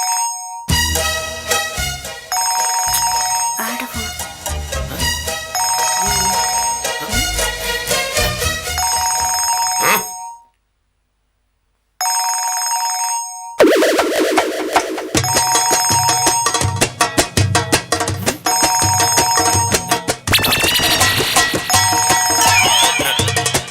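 A mobile phone rings loudly in an office setting with a bright, repeating electronic ringtone melody that cuts off briefly near the middle, then resumes with fuller accompaniment.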